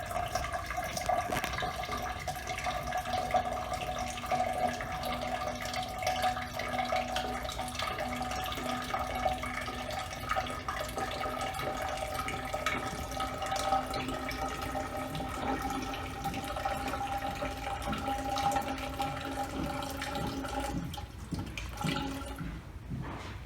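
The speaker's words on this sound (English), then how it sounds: "As the water is poured into the first cylinder" Water pours steadily into a cylinder of an S-shaped pipe water-table demonstration, a continuous close splashing and trickling that runs unbroken for about twenty seconds before tapering off near the end.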